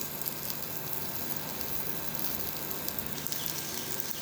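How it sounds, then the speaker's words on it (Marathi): Steamed eggplant sautéing in masala sizzles and crackles steadily in the pan, a dense, even frying hiss with no voices over it. "वाफवलेलं वांगी यात घालायचे आपल्याला आणि ही वांगी परतून घ्यायचे मसाल्यामध्ये"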